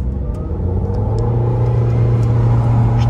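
A Fisker Karma with 1300 Nm of torque pulls away at full throttle from about ten miles per hour, its steady low rumble loud and close, with no voices over it.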